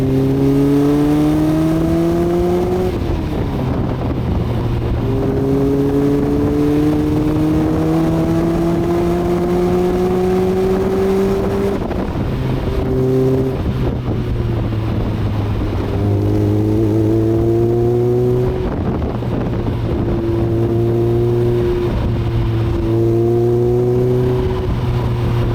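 A Lotus Elise S1 160 sports car is driven hard, its engine revving up through the gears in repeated rising pulls with brief dips at each shift, loud and close throughout.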